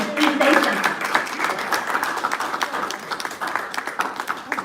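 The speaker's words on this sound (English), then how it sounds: "Let's give Diana and the Red Hat Society of Leon Valley a big round of applause." Audience at a Leon Valley city council meeting breaks into applause for the Red Hat Society, a fairly dense round of clapping that thins toward scattered claps, with a voice briefly audible at the start.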